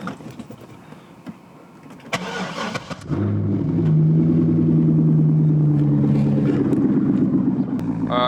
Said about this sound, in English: let's get a quick cold start for you guys